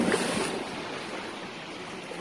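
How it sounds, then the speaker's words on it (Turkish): Sea waves wash softly along the Turkish coast on a mid-October day, a faint, continuous hiss of surf with no voices. "Şöyle dalga sesleri var"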